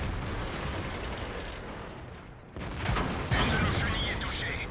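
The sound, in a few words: tank shell hit in World of Tanks video game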